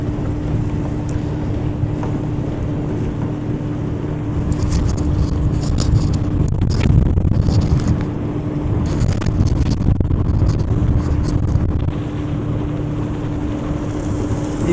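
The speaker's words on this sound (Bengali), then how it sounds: "আমি কিন্তু একদম স্পিডবোটের ফ্রন্ট সাইডে বসে আছি" A speedboat runs across the sea near Maheshkhali, heard from a seat at the front: a loud, steady engine drone mixed with rushing wind buffeting the microphone, with no talking.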